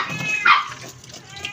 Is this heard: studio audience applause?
no